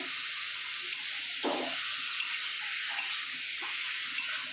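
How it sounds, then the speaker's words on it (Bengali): Chicken with spices sizzles and sautés in a pan with a steady, bright hiss, broken by a few light stirring scrapes and soft clicks, close by and without any talk. "আমি এবার ভালো করে এটাকে মশলা দিয়ে কষিয়ে নেব"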